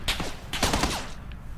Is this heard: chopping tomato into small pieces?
no